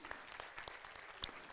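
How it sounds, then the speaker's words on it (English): Sparse, faint hand claps from a small group at a Central Bank of Kenya event with the president, a few distinct claps spread across a quiet room. "So we can give a hand clap for that."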